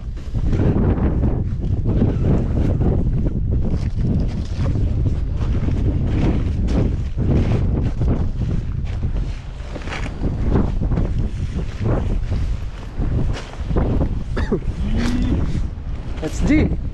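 Strong wind buffets the microphone with heavy, continuous rumbling gusts, while people talk underneath.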